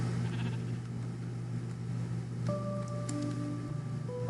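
Minecraft sheep bleat in a survival multiplayer world near a spawner farm, giving a few short, clear bleats over a steady low game hum.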